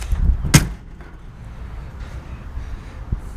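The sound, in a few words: car door shutting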